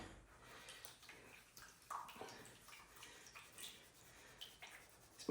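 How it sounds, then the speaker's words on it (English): Gold pan swirled with water while panning down material at a mine, giving faint intermittent sloshes, trickles and drips at close range in a quiet setting. "Let's finish panning this down."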